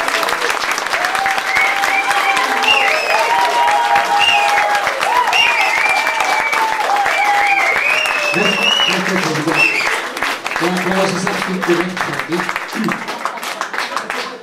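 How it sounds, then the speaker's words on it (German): An audience applauds at an art exhibition opening at a gallery in Morsum on Sylt in 2011, with steady, full clapping throughout while voices talk over it, then the clapping thins near the end. "Und ich darf Sie nun bitten, Kurt Schulz mit einem donnernden Applaus hier zu begrüßen"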